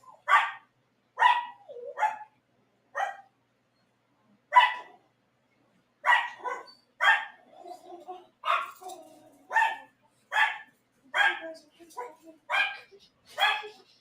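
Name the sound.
dogs barking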